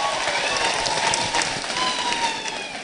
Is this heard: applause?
yes